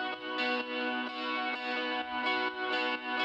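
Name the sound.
ambient guitar loop from a sample pack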